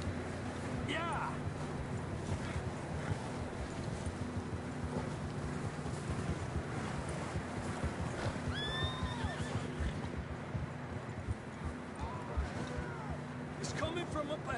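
Horses in a PS4 video game neigh and whinny loudly several times, with faint hoof clatter beneath a steady wash of in-game ambience.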